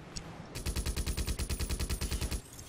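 Rapid automatic gunfire in the video game GTA Vice City: a single sustained burst of about a dozen evenly spaced, punchy shots lasting roughly two seconds, loud and close, with no speech.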